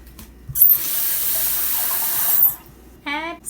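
Running tap water splashes over rice in a saucepan, a steady broadband rush lasting about two seconds near the microphone, followed by a short clatter of handling.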